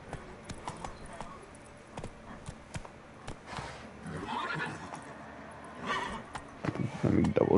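Roach, the horse in The Witcher 3 video game, neighs and clip-clops along at a slowing pace, hoof hits and whinnies rising toward the end over a low ambient bed, with someone talking at times.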